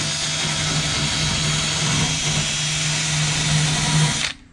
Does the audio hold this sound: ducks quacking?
no